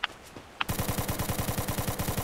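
Video game gunfire: a couple of isolated shots, then a rapid, steady burst of automatic fire rattling in an even rhythm, loud and close.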